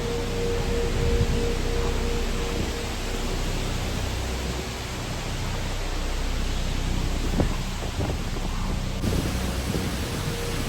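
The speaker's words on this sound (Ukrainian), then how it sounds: "вітер шумить" Wind roars and rushes steadily, loud and constant throughout with no pauses, at abandoned hotels in 's-Hertogenbosch, Netherlands.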